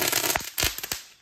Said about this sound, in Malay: Main mercun pula dah.